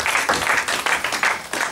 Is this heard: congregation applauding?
yes